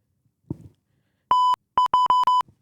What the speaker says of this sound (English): Use the beep.